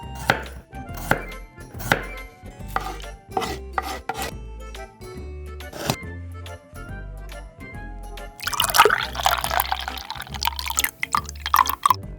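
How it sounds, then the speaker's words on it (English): A knife finely chopping lemongrass in a miniature kitchen gives crisp, close, rhythmic taps that come in quick runs with short pauses, then a brief watery splashing burst near the end. "First, finely chop lemongrass."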